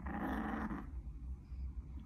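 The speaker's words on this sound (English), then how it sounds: "Now she's growling." A dog growls low and rumbling close by indoors, a throaty snarl that fades after under a second into soft breathing and muffled noise.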